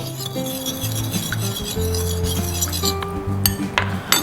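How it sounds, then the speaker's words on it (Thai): A metal spoon clinks steadily against a glass while baking soda is stirred into about a tablespoon of room-temperature water, with repeated bright taps and scraping throughout and a steady low hum underneath. "แล้วก็คนตัวเบกกิ้งโซดาให้ละลาย"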